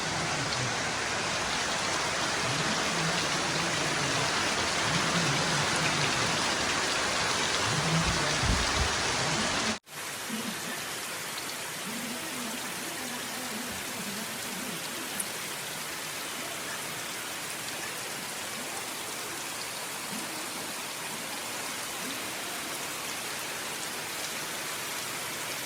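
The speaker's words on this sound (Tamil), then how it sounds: "மழை வந்துட்டு நல்ல மழை செம்ம மழை அடிச்சு விட்டுது" Heavy rain pours down steadily around a house under construction, a dense continuous hiss of drops on surfaces that shifts slightly in tone partway through but keeps going throughout, with no voices.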